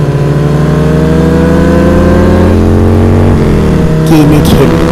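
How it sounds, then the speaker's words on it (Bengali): A cartoon motorbike engine revs hard during a race, a loud sustained whine with steady pitch that dips and rises near the end, mixed with background music. "ডাইনিটা সবার থেকে একটু বেশি জোরে জোরে বাইক চালাচ্ছিল"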